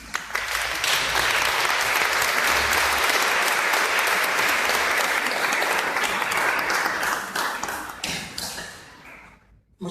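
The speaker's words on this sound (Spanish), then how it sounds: "demos un aplauso al cuentista" Audience applause for a storyteller at a live short-story reading in Guadalajara, a dense, sustained round of clapping from a full room that holds steady for about eight seconds, then thins and fades away.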